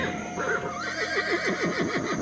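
A horse whinnies in a long, wavering call that rises and falls in pitch, loud and close, with a steady hiss of background noise underneath.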